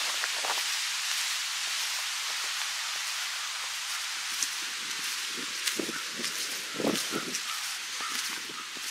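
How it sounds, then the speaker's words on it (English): Outdoor wind sweeps steadily through leaves beside a garden bed of lilies, a continuous soft hiss with a few brief rustles and knocks, no voices. "Windy today."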